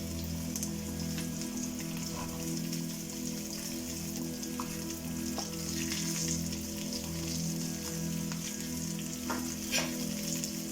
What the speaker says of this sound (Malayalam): ഇത് നന്നായി മൂത്തുരുക്കി നമുക്ക് സവാള ചെറുതായി അരിഞ്ഞത് ഇട്ട് കൊടുക്കാം.